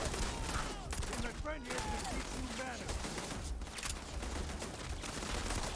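Gunfire from a binary-trigger gun in the video game Starfield crackles steadily amid a dense, busy combat soundscape, with a voice talking over the shooting.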